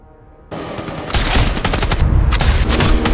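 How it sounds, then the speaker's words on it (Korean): Long-range sniper rifle fire in a war film scene, loud gunshot blasts breaking out after a quiet moment and building into a dense, sustained barrage. "이대로 끝인가 싶은 그때 마르티넬리의 초장거리 저격"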